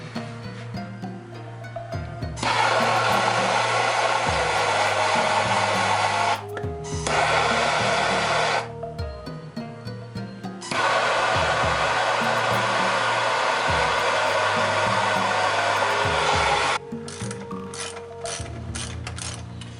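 A torch roars loudly in two long bursts while heating old seized water pump bolts clamped in a vise on a 1999 Powerstroke, with mechanical clanks and workshop noise between and after the blasts.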